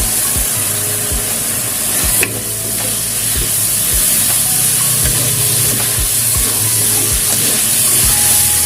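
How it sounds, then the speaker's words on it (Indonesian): Fried jengkol stirred with spice paste in a hot pan, a steady loud sizzle and hiss with regular scraping strokes of the spatula roughly every half second, close and continuous without talk. "Aduk sampai bumbu tercampur rata"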